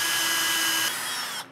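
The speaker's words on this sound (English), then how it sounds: "Drill a hole in your knife." A power drill bores a hole through a knife blade, giving a steady high-pitched whine that shifts slightly lower partway through and then cuts off abruptly near the end.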